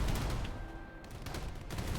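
Deck cannons on a warship in From the Depths firing in a rapid, dense barrage, the shots blurring into a continuous loud rumble that doesn't let up across the whole stretch.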